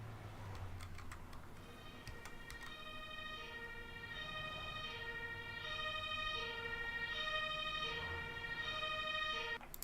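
A synthetic ambulance siren from the video game Emergency 2025 wails in a repeating two-tone pattern, fairly faint, with some clicking taps near the start.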